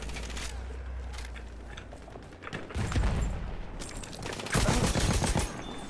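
Gunfire crackles through a Battlefield 1 match, with dense rapid bursts and heavier volleys building in the second half over a continuous low rumble of battle, fairly close and without speech.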